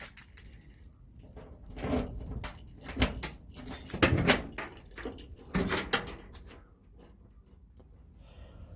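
Keys jangle and latches click as someone opens up a 1972 Chevelle, a series of close metallic rattles and clunks with quiet gaps between them.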